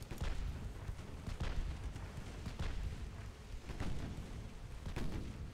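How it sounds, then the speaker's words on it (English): Warship naval guns boom in Ultimate Admiral: Dreadnoughts, a series of faint, muffled distant reports rolling under a low rumble of battle noise. "Let's hope I can get a couple of shots on their stern"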